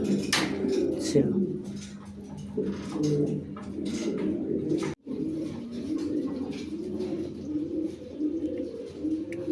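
Lahori pigeons coo at a farm in repeated soft, rolling bursts close by, with other birds chirping and a voice talking underneath.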